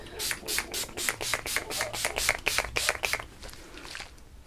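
A rapid series of short, close spritzes from a makeup setting spray bottle, about a dozen quick pumps in a row before stopping.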